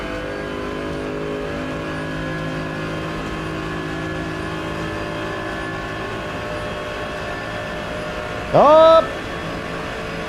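Several GT3 race cars in a racing video game hold a steady, droning engine note during a drag run, with a brief louder rising rev near the end as a voice exclaims over the racket.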